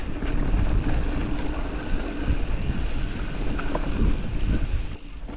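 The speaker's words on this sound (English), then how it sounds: "there's a northerly wind that's making it feel an awful lot colder than that" A cold northerly wind buffets the microphone outdoors in a steady, loud low rumble that drops away sharply near the end, with no talking.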